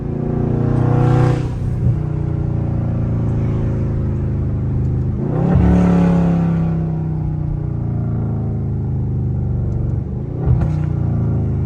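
A Dodge Scat Pack's engine rumbles deeply from inside the car, rising in several strong acceleration pulls with audible revving and gear changes between steady cruising drones.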